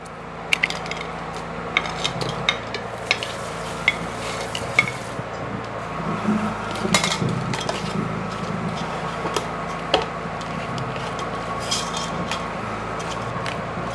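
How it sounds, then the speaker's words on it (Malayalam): Prawns and crab tossed into masala in a pan for biryani, giving a steady close sizzle with stirring scrapes and occasional sharp metallic clinks of utensil against pan, no voices. "എടുത്ത് വെച്ചിരിക്കുന്ന ചെമ്മീനും ഞണ്ടും കൂടെ ഇടാം."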